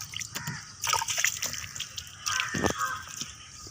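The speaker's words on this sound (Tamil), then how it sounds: "இப்போ எப்படி எடுக்கணும்னா தண்ணி தெளிச்சுக்கணும்" Water sprinkled by hand over sun-dried raw rice porridge vadam (koozh vathal) to loosen it, giving soft irregular splashes and sloshing spatters spread across a few seconds.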